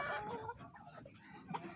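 A chicken clucks in short, uneven bursts, fairly close and alone.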